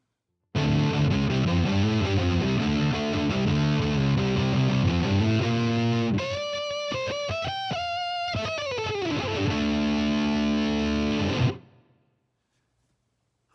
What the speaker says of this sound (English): Patch number 7 I call the Gent Distortion. It's a brutal sound with a Bogner Überschall model.